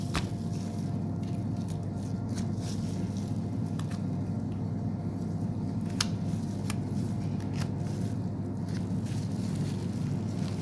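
Chicken breast meat being cut away from the wishbone while deboning, giving soft, intermittent cutting and squishing sounds over a steady low hum, with no talking.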